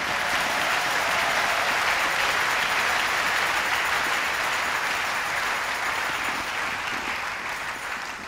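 A church congregation applauds the Lord during a French-language sermon, with sustained, dense clapping from a large crowd that fills the room evenly and fades slightly at the end.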